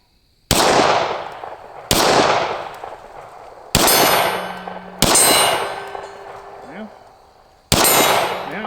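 Five sharp gunshots from an ATI FXS 9 carbine, each followed by a ringing clang of steel targets downrange, spaced irregularly about a second or more apart with long decaying tails.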